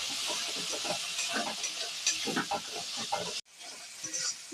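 Ground tomato and cashew paste frying in an oily pan for a shahi matar paneer masala, with a steady close sizzle, scraping stirs and a brief pause near the end before the hiss resumes.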